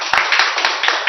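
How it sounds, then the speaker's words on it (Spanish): A church congregation applauds, with dense clapping from many hands heard close and steady for about a second, with no speech over it. "Démosle un fuerte aplauso."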